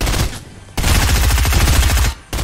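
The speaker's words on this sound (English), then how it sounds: "You ready to get shot at, Fred?" Rapid automatic gunfire in the video game Fortnite, two loud sustained bursts of shots separated by a brief gap, close and dense with no talking.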